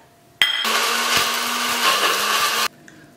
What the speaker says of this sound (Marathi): पयले ड्राय मसाला वांटया